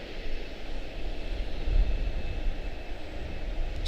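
A brand-new airliner departs Charlotte-Douglas International Airport, its engines a steady, broad, low roar that holds evenly throughout without any voices.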